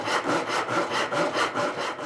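A hand saw cuts through marked wooden pieces for a 1950s-style wooden kids' cart, giving rapid, even back-and-forth rasping strokes close by, with no voices.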